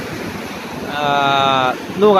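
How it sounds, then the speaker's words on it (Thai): Strong wind and surf roar over the Gulf of Thailand in the dark during storm Pabuk, a constant loud rush with someone talking over it and a whistling tone near the end. "ขึ้นลมในอ่าวไทยตอนนี้นะครับ"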